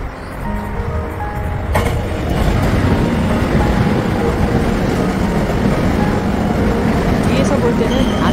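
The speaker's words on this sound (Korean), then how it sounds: "이번에는 개봉역 방면 승강장에 진입하는 보통열차의 모습을 담아보았습니다" A local train pulls into the platform at Guil station, a loud, continuous rumble of wheels and rail noise building and holding steady, with faint clatter on top.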